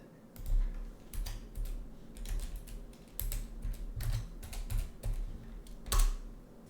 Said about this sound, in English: Now I'm gonna type my jump command.